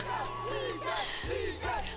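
An arena crowd at a League of Legends esports grand final roars and chants in rhythmic bursts, loud and close from down among the fans.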